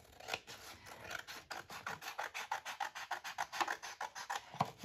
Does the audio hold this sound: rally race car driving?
no